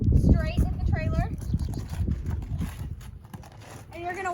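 A horse walks up into a horse trailer, its hooves thudding in an irregular rhythm close by while someone talks over them and another voice with whiny, rising tones cuts in.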